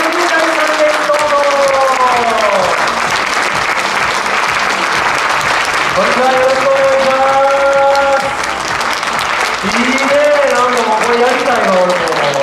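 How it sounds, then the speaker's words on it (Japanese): A crowd at a motorcycle trials talk show applauding as a guest, a former international trials rider, takes the stage; steady loud clapping runs throughout while a host speaks over it. "皆さん大きな拍手でお迎えください"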